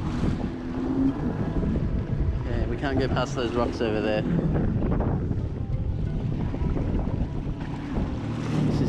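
A small boat moves over choppy sea off a Grand Bahama beach, with constant wind buffeting and the rush of waves, while people talk over the noise.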